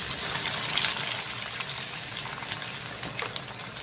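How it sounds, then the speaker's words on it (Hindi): Onions frying in oil in a home kitchen pan while cooking okra masala, with a steady, close hiss and crackle that runs the whole time with small pops and no talk. "उसी ऑयल में हम प्याजों को फ्राई करेंगे।"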